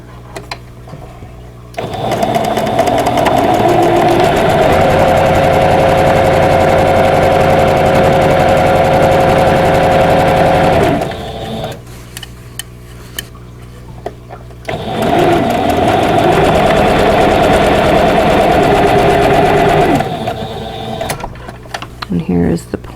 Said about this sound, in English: now we can sew this seam